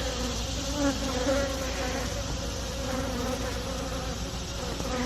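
Honey bees buzzing at an established beehive during a fall queen installation, a dense, steady swarm hum close by with no talking.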